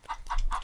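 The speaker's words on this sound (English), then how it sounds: "now that we have this key, chickens are going to spawn" Chickens in the Roblox game The Butchery cluck three times in an even rhythm, short and fairly faint, over a low background hum.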